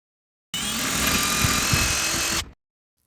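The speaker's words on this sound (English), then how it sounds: "Now I need to use a 1/4 inch masonry bit to drill through the stucco to get to the stud" A power drill runs a 1/4 inch masonry bit through exterior stucco toward a wall stud, one steady whining two-second burst, close and loud, with no one talking.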